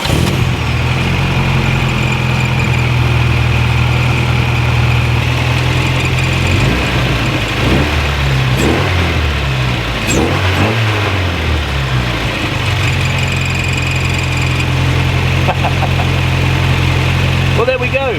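A VW Mk1 Caddy engine, just fitted with a new distributor cap and rotor arm, runs steadily at a low idle and swells with a few throttle blips, loud and close throughout.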